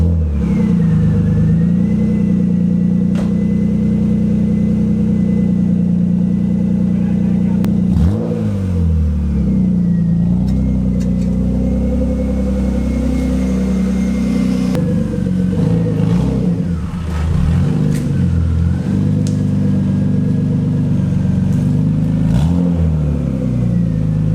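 A BMW E36 M3 with a cat-back exhaust drones loud and steady at close range, with several sharp rev blips swelling and falling back through the clip.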